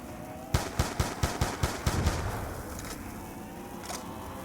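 M14 rifle fired in Black Ops 2 Zombies, eight sharp evenly spaced shots in quick succession over about two seconds, each loud and punchy, then the game's ambient background carries on with no voices.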